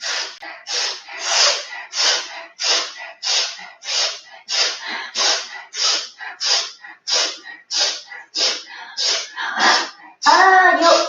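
Rhythmic breathing exercise alternating inhales and exhales: about sixteen sharp, close breaths in a regular pulse, each a short burst of air separated by brief pauses, ending in a more voiced, strained breath.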